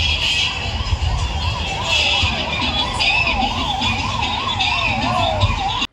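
A loud, close ambulance siren wails continuously in a rapid rising-and-falling pattern, with engine rumble and street noise underneath.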